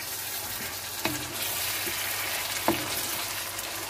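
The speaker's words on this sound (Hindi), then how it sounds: "देखिए आलू हमारे बहुत अच्छे से फ्राई हो गए।" Potatoes frying in a pan for an aloo anday bhujia, a steady broadband sizzle throughout with two sharp utensil clinks against the pan, close and fairly loud, no voices.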